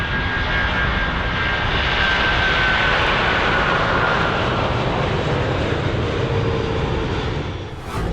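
An Airbus A340 passenger jet of Mahan Air taking off, a loud, steady, close roar of jet engines that holds for several seconds before easing slightly at the end.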